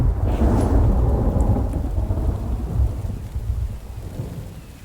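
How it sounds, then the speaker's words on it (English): Heavy rain pouring down with a rolling rumble of thunder in The Infected survival game, loud at first and slowly fading. "Damn unpredictable rain."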